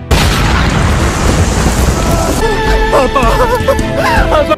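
A landmine blast from a 2011 film, a loud dense roar filling the first half, then dying into rumbling debris and a swelling music score with no talk.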